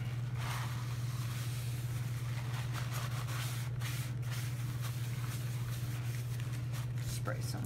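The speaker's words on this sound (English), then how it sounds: "Spray some water" Water spritzed onto paper and a work surface during a paper-distressing craft session, heard as soft hissing bursts over a steady low electrical hum in a quiet room.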